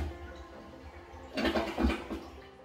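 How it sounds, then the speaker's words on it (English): A newly installed toilet with a soft-close seat is flushed on its big setting: a quiet tank hum gives way to a sudden gushing rush of water that surges twice and then begins to subside, close by. "So let's try a big flush."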